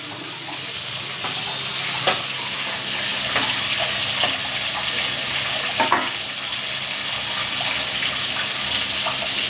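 Starch water being poured off freshly cooked rice in a home kitchen, a steady watery hiss and trickle with a few soft clinks, close and continuous with no voices.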